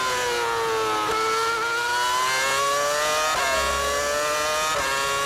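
A Formula 1 race car driven by Mark Webber screams past at the US Grand Prix, its high-pitched engine wail climbing and dropping through repeated gear shifts, loud and continuous.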